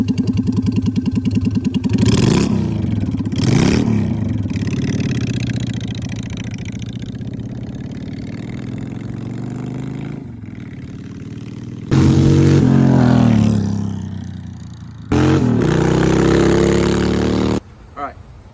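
Honda Shadow motorcycle with its stock exhaust, engine idling with a steady low rumble and then revving in loud bursts, close to the microphone with some wind noise.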